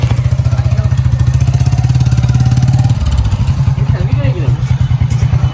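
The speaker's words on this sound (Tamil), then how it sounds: "பைக் சத்தம் கேட்குது பாருங்க" A motorcycle engine runs loud and close, its rapid even putter steady at first, then changing pitch as it revs, with a voice talking over it.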